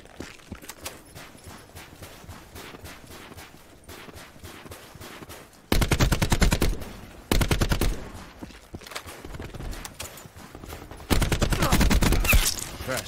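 Bursts of automatic gunfire from a first-person shooter, Call of Duty: Black Ops 4 on Xbox One, cut by short pauses, with quieter footsteps and shuffling between the loud volleys.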